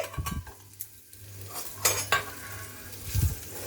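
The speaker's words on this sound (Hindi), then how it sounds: "इस तरीके से चलाते हुए आप इसे सालुक फ्राई कर ले।" Sliced medium onion and green chillies fry lightly in a pan while a utensil stirs and scrapes against the metal, giving a soft sizzle broken by brief clinks and scraping strokes, close by with no talking.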